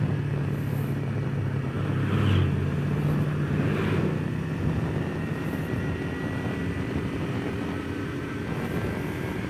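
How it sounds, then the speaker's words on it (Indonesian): Trucks pull in along a road in Sempol village, their heavy diesel engines producing a loud, continuous low rumble and drone that swells slightly around the middle and carries on steadily, with no voices. "Ya, ini truk-truk berdatangan."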